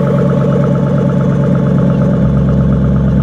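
Close, loud V8 burble from a 2005 Ford Mustang GT, a steady lumpy idle with a slight lift in revs near the end, no voices.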